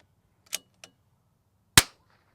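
Rimfire rifle with an 18-inch barrel fires three sharp, isolated shots, two close together and a louder one after a pause, over a quiet background.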